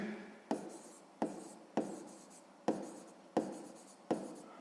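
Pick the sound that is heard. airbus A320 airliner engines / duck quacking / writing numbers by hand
writing numbers by hand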